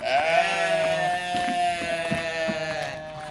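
A sheep at a small zoo gives a long, loud, wavering bleat close by, which then trails into a lower, steady call with light rustling and no talk over it.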